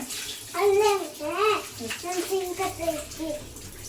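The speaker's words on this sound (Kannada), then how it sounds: "ಆಮೇಲೆ ಹ್ಯಾಂಡ್ ವಾಶ್ ಮಾಡ್ಕೊಬೇಕು" Hands are washed under running tap water in a home, a steady splash and trickle with a voice and an adult talking over it throughout.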